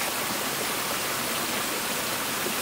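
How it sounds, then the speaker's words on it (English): Fresh water in a rainforest stream runs down a gully near Johanna Beach, a steady, dense rushing hiss heard close up, even and unbroken throughout. "Listen to the water, it has its own concert, huh?"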